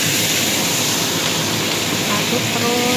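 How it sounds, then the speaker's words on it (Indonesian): Water poured into a hot pan of salted fish stir-fry sets off a loud, steady steaming hiss and sizzle that fills the whole short stretch, close and continuous with no voices. "kita kasih air biar ngebul"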